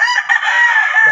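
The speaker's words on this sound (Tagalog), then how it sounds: "Ako mga manok." A rooster crows among a backyard flock of chickens, one long, loud, close call that holds steady and then trails off, with no other sound around it.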